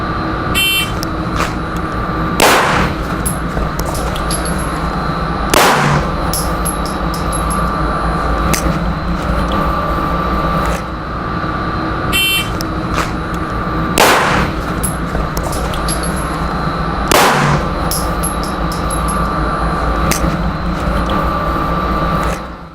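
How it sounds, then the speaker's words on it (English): Handgun shots ring out one at a time on an outdoor range during a low-light drill, several loud sharp cracks spaced seconds apart over a steady background hum, with no talking. "I'm going to come back out and get another couple of shots downrange"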